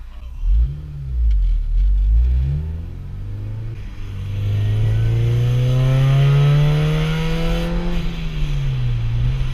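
Supercharged Honda Civic Si FA5 accelerating hard, the engine note climbing steadily in pitch through the revs with a loud, sustained drone and rising whine, heard from inside the car with no talk.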